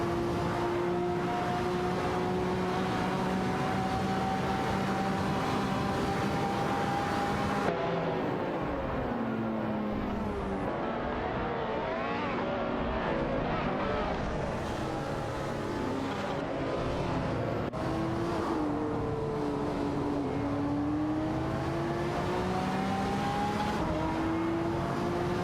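Engines of a Lamborghini Revington and an Aston Martin 177 in an AI racing video game howl continuously as the two cars duel for third place, their pitch rising and falling through gear changes and corners, loud and without pauses or talk.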